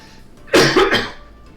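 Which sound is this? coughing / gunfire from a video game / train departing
coughing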